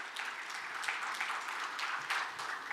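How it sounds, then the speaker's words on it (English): Audience applause at an Islamic capital markets conference closing session, an even, sustained patter of many hands at moderate distance with little else over it. "perhaps a round of applause for everyone who have traveled far and wide to join us"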